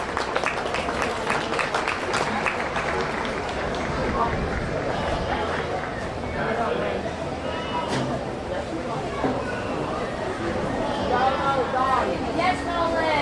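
Ringside applause at a county fair sheep and goat show as young exhibitors leave the ring, scattered clapping mixed with crowd chatter and talk in a large, echoing arena, steady and moderately distant.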